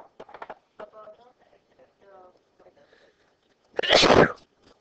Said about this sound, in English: Excuse me, sorry, I sneezed.